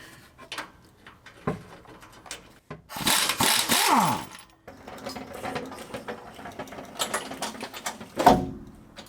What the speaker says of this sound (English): Alright, so we're going to get that last bolt out of the top.